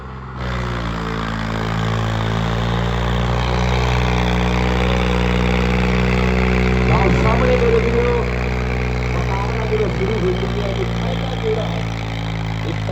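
A Sawraj 855 tractor hitched to a 16-foot trolley loaded with soil fires up and settles into a loud, steady diesel drone, while voices talk over it partway through.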